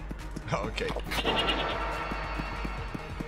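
A virgin goat bleats in the arcade action shooter High Hell, a wavering nasal cry over game sounds, with a person talking over it.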